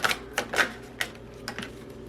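A tarot card deck is shuffled by hand in a few quick, crisp bursts of riffling card slaps, close and fairly quiet, with short pauses between.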